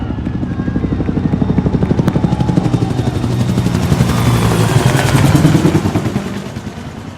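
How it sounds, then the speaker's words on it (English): A Huey helicopter passes overhead at a Memorial Day event, its loud rotor beating in a fast regular chop that swells as it nears, then eases off as it moves away. "That's the Huey 369 helicopter flyover."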